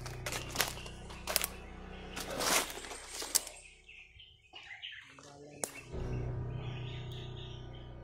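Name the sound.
crow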